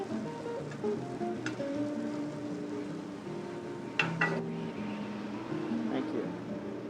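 Mushrooms fry cap side down in a pan with a steady, close sizzle, broken by a couple of brief utensil clinks, under a speaking voice.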